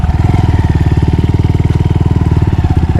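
A Honda Monkey motorcycle engine runs close by, its small single-cylinder putter thumping in a rapid, steady rhythm with no talking.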